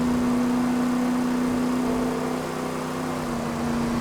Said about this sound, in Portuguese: Vai em redline o carro